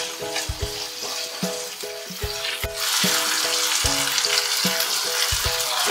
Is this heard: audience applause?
no